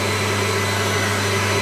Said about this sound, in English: you toss the rubbish in. Okay. It gets sucked up the back.